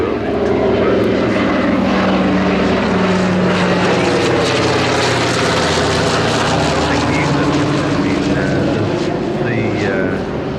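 A Douglas DC-3 propeller airliner in Breitling livery flies at the Flying Legends 2015 airshow, its steady piston-engine drone loud and continuous, with a voice talking over it.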